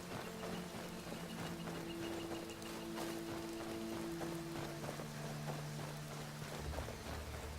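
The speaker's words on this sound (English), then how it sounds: "This rain looks kinda nice, you have to give it to obsidian weathers." Rain falls in a Minecraft game running the Requiem modpack with Obsidian Weathers, a soft, continuous hiss with scattered drops and a faint low hum, quiet and steady with no talking.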